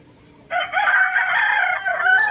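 A two-year-old bulik gamecock rooster crows once at close range, a loud clear cock-a-doodle-doo that starts abruptly and holds for about two seconds.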